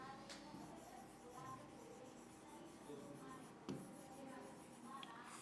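A pen scratching out an answer on paper during a Class 10 English lesson, with steady close rubbing strokes that continue throughout and a few louder taps, under faint background noise.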